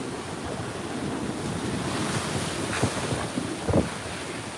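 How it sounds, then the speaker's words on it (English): Ocean waves crash off the Sarasota coast during Hurricane Milton, a loud, continuous roaring surf mixed with heavy wind buffeting the microphone, with a couple of sharper crashes near the end. "You hear this big crashing, horrible rumbling sound just off the coast."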